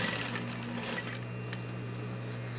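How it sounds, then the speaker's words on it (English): A sewing machine stitches self fabric for a vest sample, giving a steady mechanical hum with a faint tick partway through. It runs alone at a moderate, close level. "This machine is sewing very nice these days."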